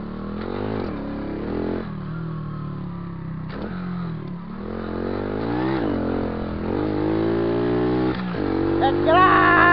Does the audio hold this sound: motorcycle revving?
yes